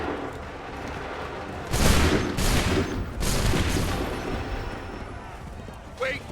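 Musket volleys in Assassin's Creed III, a few loud broadband blasts with long rumbling tails, then a sharper report near the end, over steady battlefield ambience; voices can be heard in the background.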